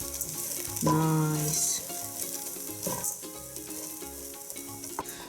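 Arborio-style rice toasting in olive oil for saffron risotto sizzles steadily in the pan, with a spoon scraping and stirring through it up close; a voice briefly speaks over the frying.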